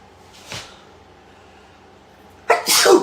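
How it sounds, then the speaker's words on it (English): A single loud sneeze near the end, preceded by a short breathy inhale, with quiet room tone in between. "And now I gotta sneeze."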